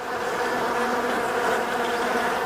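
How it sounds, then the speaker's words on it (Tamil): A swarm of bees buzzing in a Bengal forest, a dense, loud, continuous drone that fills the whole stretch without pause. "சுத்தி இருக்கிற எல்லாமே தேனீக்கள் தான்."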